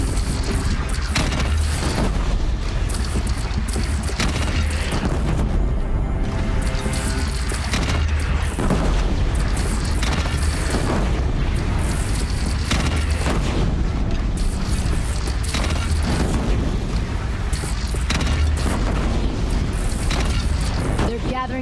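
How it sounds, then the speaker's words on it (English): Cannon fire in the video game Horizon Zero Dawn, heavy booms and crashing blasts thundering repeatedly through a dense, loud battle din with voices talking over it. "They only have one cannon!"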